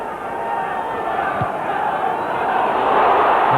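A large football crowd at a Middlesbrough match roars steadily from a distance in a stadium, a continuous wash of noise that swells slightly over a few seconds under commentary.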